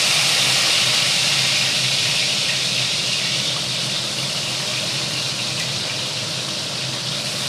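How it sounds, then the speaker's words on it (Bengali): Rohu fish pieces frying in hot oil in a kadai, a loud, dense and continuous hiss of bubbling oil that holds steady throughout with no talking. "কড়াই তেল গরম হয়ে গেছে, এবার মাছ ভেজে নেওয়া হবে।"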